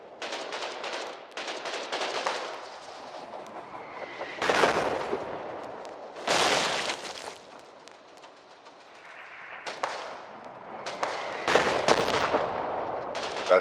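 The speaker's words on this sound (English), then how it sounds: "That has to be at least 2 howitzer guns firing in tandem." Heavy artillery fire from at least two howitzers in a war video game, with loud, overlapping booming blasts and rolling rumbles that come in bursts and swell and fade across the scene.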